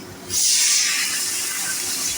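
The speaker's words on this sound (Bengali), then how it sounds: "জল দিয়ে দিচ্ছি," Water poured into a hot pan of fried raw mango for a thin curry sets off a sudden loud hiss that holds steady as steam, then eases slightly.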